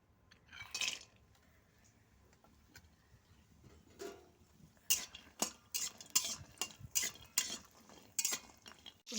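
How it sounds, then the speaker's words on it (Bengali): Lentil dumplings (bori) frying in white oil in a wok, heard as a run of sharp clinks and scrapes from a spatula, sparse at first, then quicker and louder, with a faint sizzle underneath. "দিয়ে আমি বড়িটা ভেজে নিচ্ছি"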